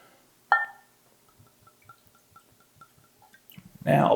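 Young Willett Family Estate bourbon whiskey poured into a glass, a sharp clink of the bottle at the glass followed by a quiet run of small glugging drips, then a louder splash near the end.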